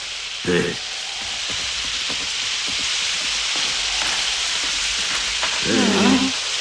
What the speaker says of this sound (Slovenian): Najprej se morava zaščititi pred dežjem in ti tudi.